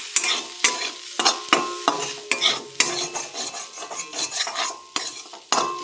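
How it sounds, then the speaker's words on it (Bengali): Spices and coriander powder stirred in a cooking pan, a spoon scraping and clinking against the metal in quick, rhythmic strokes over a soft sizzle, close and clear with no voices. "এইবার এটা একটু নাড়াচাড়া করব"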